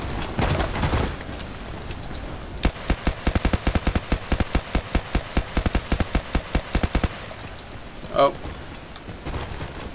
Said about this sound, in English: So now we're going to move on to long range tap firing, see how that performs.